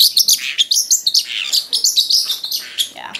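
A pet parrot chirps excitedly during the making of a bendable perch, with rapid, bright, close tweets and squeaks running nearly without pause.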